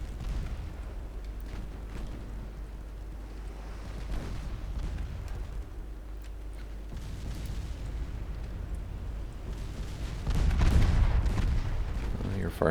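Naval gunfire from warships in the game Ultimate Admiral Dreadnoughts: continuous low booming rumble of broadside and secondary fire, building to a heavier, louder volley near the end.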